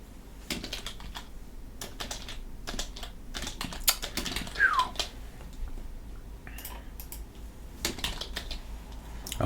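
Typing on a computer keyboard: irregular bursts of quick, light key clicks with short pauses between runs, close and fairly quiet, with no talk over it.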